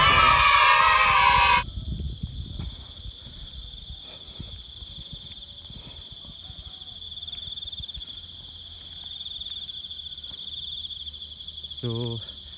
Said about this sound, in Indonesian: kita masih dengar suara jangkrik saling bersautan satu dengan yang lain